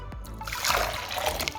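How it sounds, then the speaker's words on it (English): Water trickles and splashes as it is poured into a jar for a homemade air freshener craft, a short close pour that swells and then runs steadily. "I'll fill the jar first, and then I'll know if I have enough."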